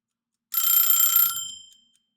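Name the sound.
timer alarm going off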